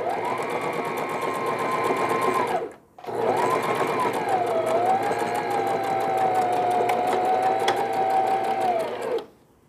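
A sewing machine joins the rib side of a Santa hat, running loud and steady with a wavering motor hum, a brief stop near the three-second mark, then a long continuous run.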